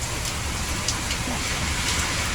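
Steady rain pours down with wind, a dense continuous hiss with no pauses and occasional brighter spatters.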